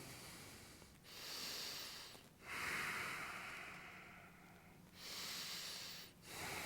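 Slow, heavy breaths in and out during a downward-dog yoga pose, each lasting a couple of seconds, close and fairly quiet with no talking.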